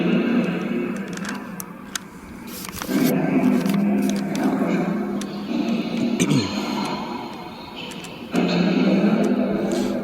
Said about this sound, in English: Creaking sound you're hearing, by the way, is my hand on the handle of the GeoPort